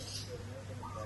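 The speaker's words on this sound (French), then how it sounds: "Il y a quelques cages avec des oiseaux là." Caged birds give faint, brief chirps inside a quiet building, over a steady low hum and soft background noise.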